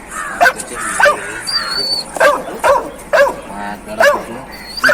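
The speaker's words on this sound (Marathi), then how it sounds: "अरे एवढी एवढी कुत्रे" Several dogs bark in short, repeated bursts near the listener, about eight barks spread over five seconds with some whimpering yips between them.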